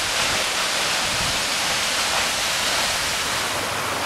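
A roaring waterfall pours continuously, a dense, loud wash of rushing water with no pauses and no voices.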